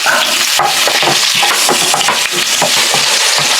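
Ginger sautéing in the same pan used to fry pompano, a loud, steady broadband sizzle with crackling pops and scraping stirs of a utensil against the pan, close up and continuous with no voices.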